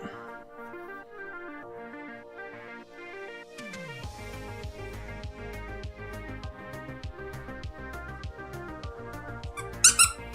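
A squeaker inside a fluffy plush toy squeaks in quick, shrill bursts near the end, faint against a steady tonal background, close by.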